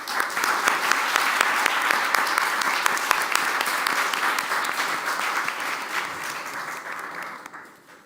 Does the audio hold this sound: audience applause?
yes